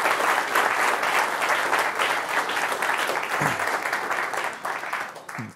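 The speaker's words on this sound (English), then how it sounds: "they need a round of applause" Steady audience applause fills a conference hall after an automotive cybersecurity talk, dense, sustained clapping from a sizable crowd that holds for several seconds before tapering at the end.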